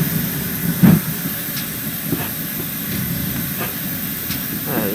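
Steady steam hiss with soft periodic puffs and light rail clicks, a Train Simulator GWR 72xx class tank engine standing or creeping slowly, no voices.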